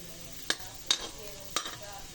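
Ginger sautéing in oil in a pan, giving a steady soft sizzle with three sharp utensil clinks or scrapes spaced about a second apart.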